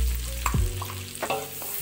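Big onion sautéing in oil in a pan for a lumpia filling, a brief close sizzle with a couple of stirring scrapes, with no voices.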